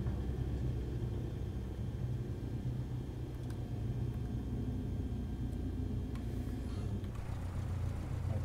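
Steady low engine rumble of a plane rolling out after touchdown at Eros Airport in Windhoek in Microsoft Flight Simulator, continuous and moderately loud with no talking.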